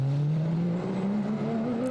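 A race car at the 2010 24 Hours of Nürburgring rejoins the track, its engine a loud, sustained drone that climbs gradually in pitch as it accelerates, with no voices.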